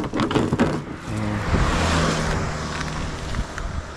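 Vehicle passing on a road by a balete tree during a stormy fishing trip, a rising and fading rumble of a car going by at moderate distance, with wind noise around it and no talk.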